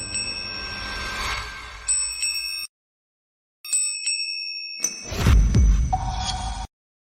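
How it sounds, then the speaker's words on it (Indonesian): A golden lantern bell is shaken, giving bright metallic rings and tinkling chimes in several bursts separated by brief silences, with a swishing flourish near the end. "kau yang guncang lonceng"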